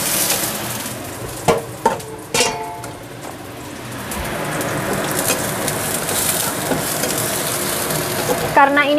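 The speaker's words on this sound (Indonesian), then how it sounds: "Karena ini sudah lunak, ini cukup ditumis sebentar aja ya." Soft vegetables are briefly sautéed in a pan, giving a steady, close sizzle throughout, with a few sharp clinks of utensils early on.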